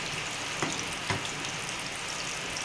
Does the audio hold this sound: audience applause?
no